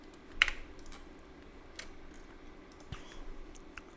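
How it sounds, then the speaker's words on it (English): Sparse, faint clicks of someone typing on a computer keyboard, a few scattered taps and a brighter click early on, in a quiet room with no talking. "If I type in security."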